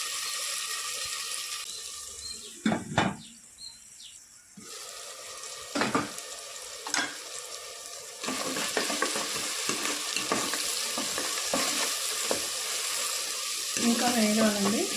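Mushroom curry masala of onion and tomato fries in oil in a pan, a steady broadband sizzle running throughout, with a few sharper stirring scrapes and clatters and a brief quieter stretch near the start.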